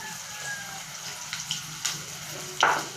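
Banana turon frying in a pan, a steady soft sizzle with small pops and crackles, one brighter burst near the end.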